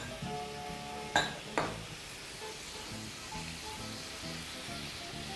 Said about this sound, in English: And just proceed to just toss those together in your pan.